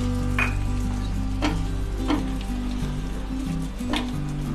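Two medium tomatoes, chopped and added to hot oil for a Bengali doi bhetki (barramundi in curd) dish, fry with a steady loud sizzle, punctuated by a few sharp stirring scrapes, with no talking.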